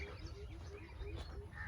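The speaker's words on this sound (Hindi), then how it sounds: "परिंदों के चहचहाने की आवाज़ें" Several birds chirp and call lightly across a rural village morning in a garden setting, a steady mix of small tweets over a soft outdoor background.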